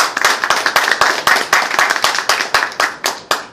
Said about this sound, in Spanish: Pido un poco de aplauso también.